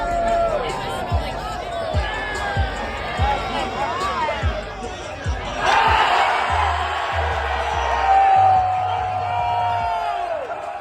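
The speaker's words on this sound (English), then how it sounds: "believe me, the crowd went absolutely nuts." A large crowd at the Indy 500 cheers and whoops, a broad roar swelling from mid-distance under ongoing talk, with rhythmic thuds early on and the noise rising in the second half.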